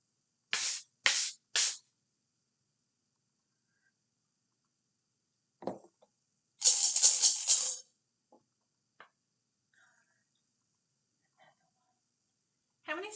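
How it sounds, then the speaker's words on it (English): Three quick maraca shakes, then a pause with small taps, followed by a longer rough scraping swish of sand blocks rubbed together, with scattered faint clicks. "One was the maraca and one was the sand blocks."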